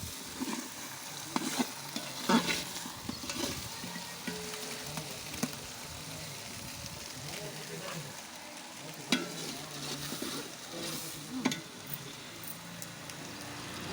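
Mutton masala frying in hot oil gives a steady crackling sizzle with sharp, scattered spatter pops, close and moderately loud throughout.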